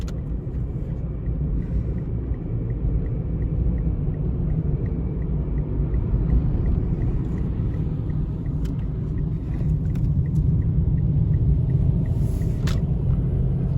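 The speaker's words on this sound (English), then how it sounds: "You can hear the 3-cylinder and all of its potency." The 3-cylinder engine of a 2017 Mitsubishi Mirage G4 with a CVT, heard from inside while driving: a continuous low rumbling drone with road and wind noise, steady throughout, no talk.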